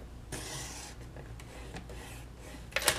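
Cardstock being cut by hand with a steady rasping, scraping stroke that runs nearly continuously, close and quiet, ending in a brief sharper scrape.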